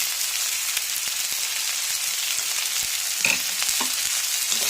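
Drumstick pieces, green chillies and curry leaves sauté in a pan, a close, steady sizzle broken by the scrape of stirring and a couple of brief knocks, with no voices.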